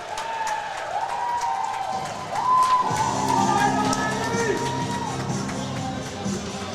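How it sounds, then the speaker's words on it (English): Crowd at an ACHA Division III college hockey game between Arkansas and Dordt reacting sarcastically to a referee's call: a swelling murmur and jeering roar of many voices in the rink, loud and sustained, with the game's play-by-play commentary running over it. "Sarcastic reaction from the crowd as Arkansas really hasn't had a lot of calls go their way."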